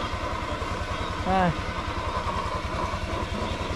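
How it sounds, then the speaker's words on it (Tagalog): A motorcycle engine idles with a steady low pulsing throughout, and a brief voice rises over it partway through. "Grabe ang ingay ng motor mo."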